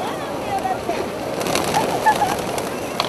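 Pigeons coo softly amid a busy flutter of wings and rustling, with a few brief chirps over a steady outdoor hiss.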